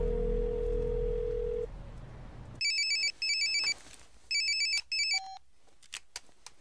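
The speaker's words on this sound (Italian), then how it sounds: "Troppo tardi, sta già squillando. La metto sul viva voce, così puoi sentire." A telephone rings several times over a speakerphone, in repeated electronic double bursts with short pauses, coming after a stretch of steady background hum.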